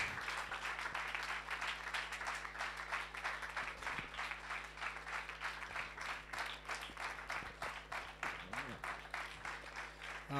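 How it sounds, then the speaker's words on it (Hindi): A congregation claps during an Urdu-language church sermon, rapid rhythmic hand claps filling the hall while voices speak and call out over them, with a low steady hum underneath. "आप तालियाँ बजा सकते हैं"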